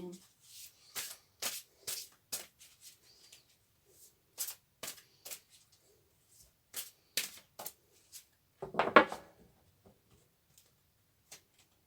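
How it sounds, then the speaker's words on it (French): Oracle cards are shuffled in short bursts of crisp riffling and flicking, separated by quiet gaps, close and clear, with a louder cluster of card slaps near the end. "Un peu difficile à battre, à mélanger"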